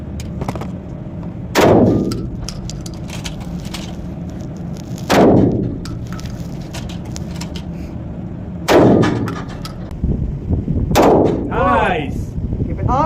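Gunfire at an indoor shooting range, four sharp, loud shots spaced a few seconds apart, each with a booming echoing tail, over faint background noise and some brief speech near the end.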